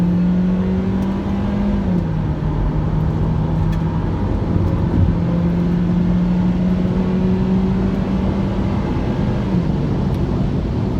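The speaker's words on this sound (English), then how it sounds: "I'm just gonna full throttle and just show you how good the car handles right away." A 2012 Mazda 3 Skyactiv accelerates at full throttle onto a highway, its engine droning loudly from inside the cabin with a steady rising pitch that drops at two gear shifts, and no one speaks.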